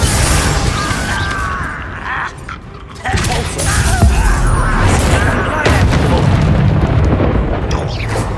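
Confringo fire spell blasts in the Hogwarts Legacy video game, a booming explosive burst layered over game music and effects, with a brief lull near three seconds before more heavy rumbling impacts continue.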